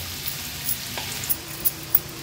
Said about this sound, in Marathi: आता लो फ्लेम करून हा कांदा आपल्याला शिजवून घ्यायचा आहे।